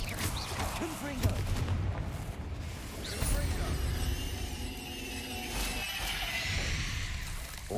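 A Confringo spell blast in Hogwarts Legacy: loud, dense bursts of crackling explosive noise with booming impacts, layered over game ambience and continuous talk.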